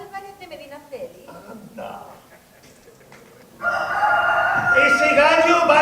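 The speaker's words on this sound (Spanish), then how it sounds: "Ese gallo va retrasado, Carmen." A rooster crows loudly and close in a rural setting, a long drawn-out call that comes after a stretch of quieter voices talking.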